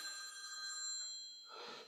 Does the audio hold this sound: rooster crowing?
no